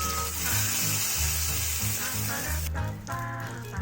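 Steady frying sizzle as hot tempering is poured into a mango pickle and yogurt raita, with a brief burst of crackling near the end; close and fairly loud, no talking.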